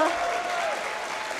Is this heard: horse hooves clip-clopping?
no